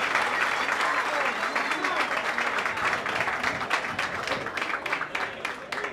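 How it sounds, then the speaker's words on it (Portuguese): Studio audience applauding a guest on a talk show, a steady, dense wash of clapping that holds loud and even for the full six seconds with no voices rising above it. "Aplausos para o meu convidado, por favor."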